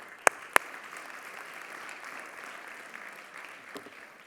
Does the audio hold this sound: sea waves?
no